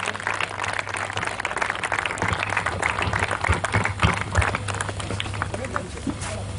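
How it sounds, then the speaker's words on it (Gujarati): An audience claps and cheers to welcome a guest at the Gandhinagar Parikrama 2013 event, with sustained applause alongside a speaking voice. "સર માટે તાળીના ગડગડાટથી સરનું સ્વાગત કરીએ આપણે."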